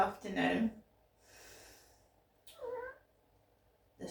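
A house cat makes a short sharp meow near the start, a softer breathy sound follows, then a second clear meow, close by with quiet pauses between.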